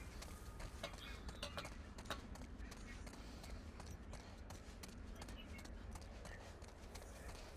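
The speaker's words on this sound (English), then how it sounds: "I hear the fucking horse behind me" Galloping horse hooves in The Last of Us: Left Behind clatter steadily in a dense, continuous rhythm, loud and close, under a busy game soundscape.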